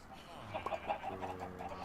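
Chicken clucking in the video game Minecraft Sky Factory 3, a few short quiet clucks in quick succession, with faint speech in the background.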